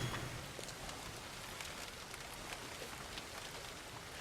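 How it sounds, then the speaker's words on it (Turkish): Steady rain in the farming video game Farmers Dynasty, a continuous, even patter of drops on surfaces, moderately loud and unbroken, with no voices over it. "Yağmur artık bir git."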